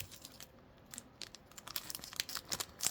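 Scissors cut open a crinkly plastic trading card pack wrapper up close, crackling and tearing with quick sharp snips and rustles that grow busier toward the end.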